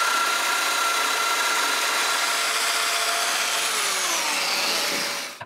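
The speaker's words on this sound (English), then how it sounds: "I stick some pieces of reclaimed hardwood flooring between the 2 panels, make some marks, and drill 4 mortise holes." A power drill cuts four mortise holes into reclaimed hardwood flooring clamped between two panels, a continuous loud grinding whir that winds down at the end.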